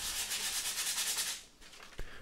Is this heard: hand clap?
no